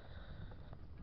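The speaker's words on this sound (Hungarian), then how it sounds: "bocsi, mert fog fújni a szél" Wind buffeting a microphone outdoors in a farm field where rapeseed is being sprayed, a low, continuous rumbling gust filling the whole short moment.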